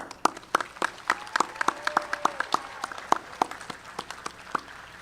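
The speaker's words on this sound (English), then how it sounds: "Take a moment and applaud them," At a university spring graduation ceremony, a sparse scattering of individual claps from the audience rings out in a large hall, irregular and fairly close, with faint tonal sounds in the background and no speech.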